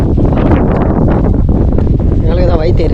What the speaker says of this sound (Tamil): இங்கேயே காற்று நல்லா அடிக்குது